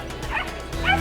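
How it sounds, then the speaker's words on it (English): Puppies give a couple of short, high yips and whimpers close by, two brief bursts over a low background murmur. "We came over here just to see the puppies"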